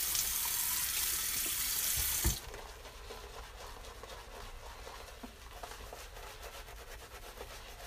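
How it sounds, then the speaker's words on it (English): Water runs from a tap into a sink. The loud, steady stream cuts off after about two seconds and is followed by quieter dripping and handling noises. "Got some more water to this."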